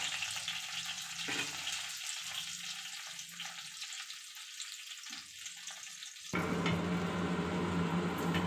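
Vegetables frying in hot oil for an eggplant, potato and tomato chutney, a steady close sizzle and crackle that rises sharply and grows louder toward the end, with no talking.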